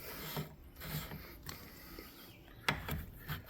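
Collar being screwed down onto a Graco GMAX II 3900 pump, with faint close mechanical rasps and ratcheting clicks at an uneven rhythm and one sharper metallic click near the end.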